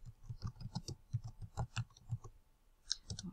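Quick, light keystrokes on a computer keyboard typing a short folder name, a steady run of close, soft clicks with a brief pause near the end, with no talk over it.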